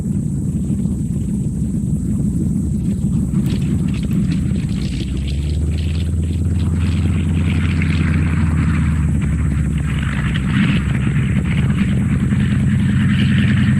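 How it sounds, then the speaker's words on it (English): A light aircraft lands at Blackpool Airport, its propeller engine droning loud and steady, with a lower hum rising partway through under heavy wind noise. "it's with some relief that Gary finally touches down at Blackpool Airport"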